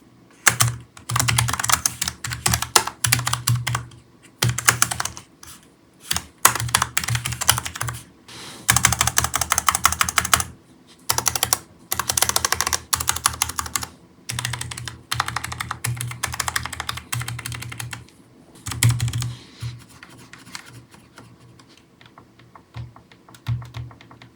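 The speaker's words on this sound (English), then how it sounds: "Here you can listen a sound test of the keys." Rapid clacky typing on a Corsair K100 Air low-profile mechanical keyboard in uneven bursts with short pauses, close and fairly loud, with no voices.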